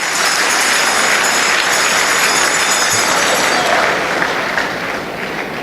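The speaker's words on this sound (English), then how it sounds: "Clap for yourselves." Audience applause at a town hall meeting with political appointees in Bayelsa State, dense and loud clapping that runs steadily throughout and eases slightly near the end.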